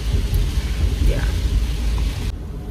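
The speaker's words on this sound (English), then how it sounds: "Y'all, it's raining." Rain pours down outdoors during a stormy day, a loud rushing wash with low rumbling underneath, close and steady, with a voice faintly present beneath it.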